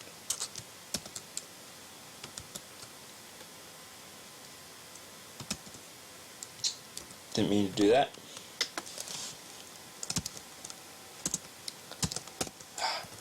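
Sparse, irregular computer keyboard keystrokes clicking quietly at close range while coding, with a brief spoken remark in the middle.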